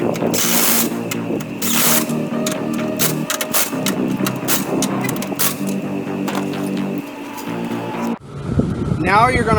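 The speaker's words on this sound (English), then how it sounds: "you're going to want to tighten the top struts first" Rapid, close ratchet clicking in repeated bursts as top strut bolts are tightened on a 2006 Mercury Mariner, with tool clatter in a garage and a short break near the end.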